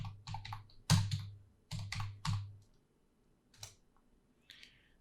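A terminal command is typed on a computer keyboard: close, crisp keystrokes in short clusters, then a pause and a few isolated taps.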